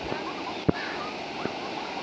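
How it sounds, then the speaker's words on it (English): The Chania waterfall at the Blue Post Hotel in Thika, Kenya, gives a steady, close rushing roar. Brief voices and a few short knocks break through it. "The beautiful waterfall."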